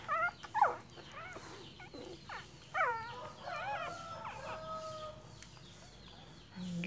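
Newborn puppies suckling from their mother and whimpering, with high, wavering squeaks and whines, some rising and falling, close by and fairly loud over a soft background.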